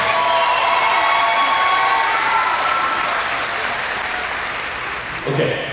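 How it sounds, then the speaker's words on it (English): An audience applauds at a Battle of the Blades charity hockey event, sustained dense clapping with some cheering in a large, echoing arena, gradually easing off near the end. "Give him another round of applause."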